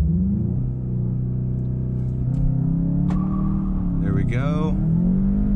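A 2019 Volkswagen Jetta GLI holds near 4,000 RPM in launch control with a loud, steady droning rumble that wavers slightly, then climbs sharply as the car launches; one short spoken word cuts in.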